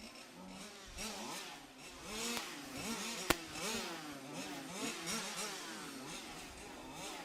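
Large-scale RC touring car engines rev at a trackside race, their high, buzzing pitch repeatedly sweeping up and down as the cars circulate. The sound is faint and distant, with one sharp click partway through.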